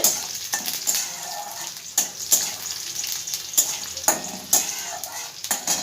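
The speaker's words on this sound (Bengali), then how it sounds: "একটু ভেজে নেব এই 3টে জিনিস একসাথে।" Garlic and spices frying together in a pan, a continuous close sizzle punctuated by regular sharp scrapes and clinks of a spatula stirring against the metal.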